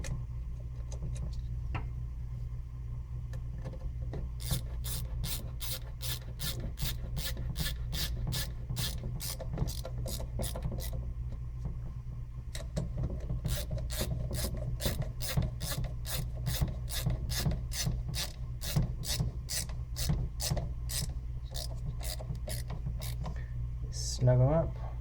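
Screws being driven back into the top plate of a VW MK4/early MK5 gear shifter, a long run of evenly spaced rasping ratchet clicks from close by, pausing briefly midway before resuming, with a low steady hum underneath.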